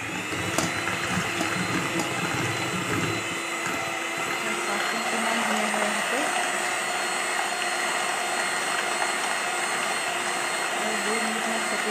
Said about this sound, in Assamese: কণীকেইটা ফেটি থাকিব লাগিব, নহ'লে কণী গোন্ধ আহিব পাৰে।